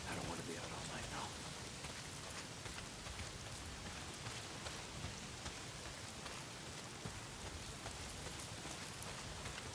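Heavy rain in the video game Days Gone, a dense, constant downpour hiss covering the whole stretch, fairly quiet overall with no break, and no voices over it.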